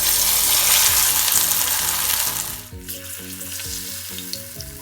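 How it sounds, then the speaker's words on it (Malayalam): Falafel dropped into hot oil for deep frying: a loud, dense hiss that eases after a couple of seconds into steadier bubbling crackle, close and alone. "ഇനി നമുക്ക് ഇതിലേക്ക് തയ്യാറാക്കി വെച്ചിട്ടുള്ള ഫലാഫൽ ഇടാം"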